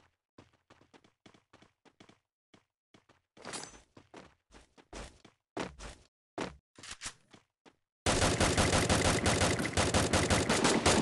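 Scattered single gunshots crack at first, then heavier bursts, ending in sustained rapid automatic fire that is loud and close.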